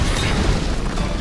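A box of TNT blows up in the Tomb Raider video game, a short loud burst of broadband noise that fills the whole brief moment with a dense, rumbling roar.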